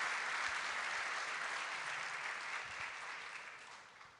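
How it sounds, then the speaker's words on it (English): A warm round of audience applause at the Doha Forum greets Hillary Clinton as a guest, dense, even clapping from a large crowd that holds strong and then gradually fades toward the end. "I'm going to ask for one more proper warm round of applause for our guest, Hillary Clinton, please."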